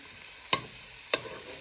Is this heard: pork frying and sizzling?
yes